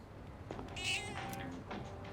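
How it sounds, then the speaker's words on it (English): A cat in the Persona 3 Reload video game gives a single short, clear meow at moderate volume over a quiet game background, with no talking. "that involves going to the station outskirts to feed that kitty cat"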